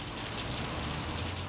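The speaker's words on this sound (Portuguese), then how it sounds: "Demorou um pouco, mas finalmente a chuva chegou." Rain falls steadily in a city during the rainy season, a dense, even hiss of drops on surfaces that stays constant and fairly loud, with no voices.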